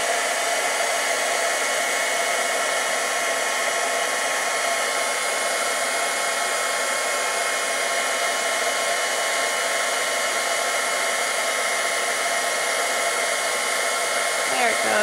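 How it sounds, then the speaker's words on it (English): A heat gun runs steadily while embossing a card, a loud, constant blowing whir at close range that holds unbroken for about fifteen seconds with no talk. "so I don't blow it all over the place when I turn on my heat gun"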